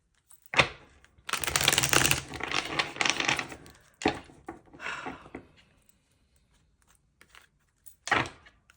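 A deck of tarot cards is shuffled by hand in several riffling bursts, a long rustling run first and then shorter separate shuffles with pauses between them, close and fairly quiet.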